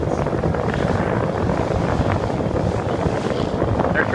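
A steady, dense roar of speedboat engines and rushing water on Lake Monroe, Indiana, with heavy wind buffeting the microphone and no clear pauses throughout.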